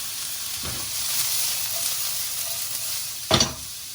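Spicy Asian-style mullet sizzles in a hot wok with a steady frying hiss, broken by two louder bursts of stirring or tossing, close and with no talk.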